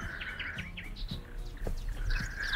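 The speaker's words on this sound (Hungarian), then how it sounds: "De jó ez a madár csicsergés, gyerekek." Birds chirp and tweet in quick high bursts over a steady low background hum, several calls overlapping, fairly close.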